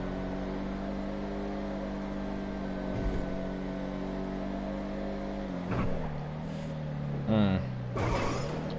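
A Declasse Vigero ZX in GTA 5 drones with a steady engine roar that climbs as it runs through the gears, dipping and surging near the end as the next gear catches, with a voice talking over it.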